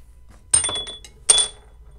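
Scored scientific glass tube cracking and breaking apart at the cut line after being knocked, two sharp bright clinks about three-quarters of a second apart, close and loud against near silence.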